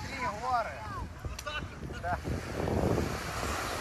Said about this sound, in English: Let me just show you the beach now.